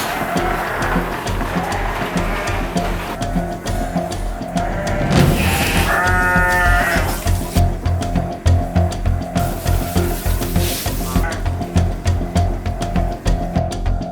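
Garut sheep bleat in a village pen, with one clear drawn-out bleat standing out midway over a loud, steady rumbling background hum, and fainter bleats around it.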